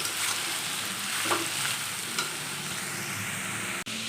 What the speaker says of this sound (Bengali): সব মশলা দিয়ে দিয়েছি এর মধ্যে মশলাটা দিয়ে কষানো